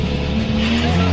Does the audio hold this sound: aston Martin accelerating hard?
yes